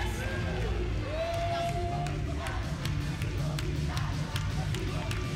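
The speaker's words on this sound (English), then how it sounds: "Crowds of people everywhere." A large crowd at a lively church gathering cheers and whoops with scattered clapping, forming a dense, continuous wash of voices with sharp claps poking through.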